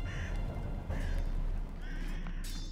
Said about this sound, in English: Oh god, birds!